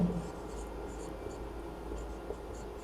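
A pen writes math by hand, giving a soft, faint scratching that runs steadily under a low background hum, with no clear speech.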